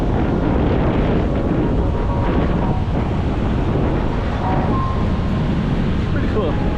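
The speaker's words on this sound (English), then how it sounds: "It's so windy" Strong wind on an evening beach in Da Nang, Vietnam, roars and buffets the microphone continuously, a loud steady rumble with faint voices barely audible underneath.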